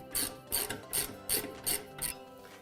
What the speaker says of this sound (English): So we're just going to take our 1/2-inch socket and ratchet and remove these 2 bolts.